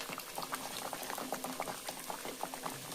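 A pot of puran, lentil filling, bubbling on the stove, a dense, steady patter of small pops and gurgles, close and fairly quiet.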